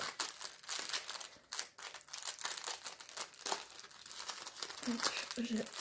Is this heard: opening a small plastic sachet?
yes